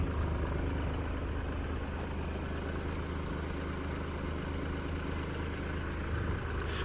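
A BMW X2 with a 1.5 litre engine idles steadily, a low, even hum with faint mechanical ticking throughout, quiet and unchanging, with no talk.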